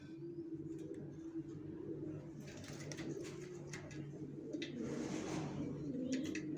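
Young racer pigeons coo softly and repeatedly at close range, with low throaty calls over a faint background hum and scattered small rustles and chirps.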